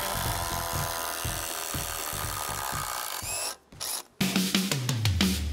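Flex FX1371A cordless impact wrench unscrewing a fastener, a rapid continuous hammering rattle close up that stops briefly, then restarts in short bursts with rising motor whine.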